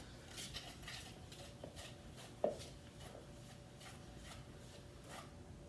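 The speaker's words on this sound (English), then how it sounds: "There's a little bit of egg, a little bit of powder, and you're gonna mix it up." Egg and powdered sugar for gingerbread icing being mixed in a bowl, a quiet rhythmic rubbing and scraping of repeated stirring strokes with one sharper clink near the middle.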